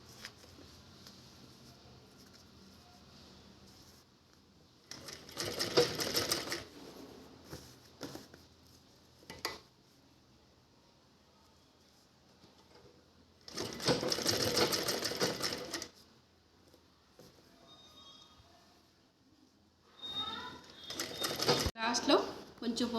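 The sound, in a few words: sewing machine stitching a table cloth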